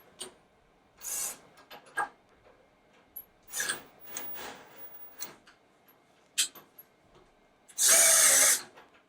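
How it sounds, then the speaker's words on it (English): An 18-volt cordless drill drives a nylon lock nut down on a bench mounting bolt in several short bursts, each burst longer and louder than the last, ending in one sustained, strained run. "I'm going to try tightening it up with this drill."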